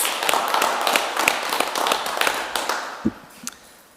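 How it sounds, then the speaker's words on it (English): Attendees at a Mount Shasta city council meeting clapping in a round of applause, scattered sharp claps from a modest group that thin out toward the end, with a couple of louder isolated thumps. "Let's give them a round of applause"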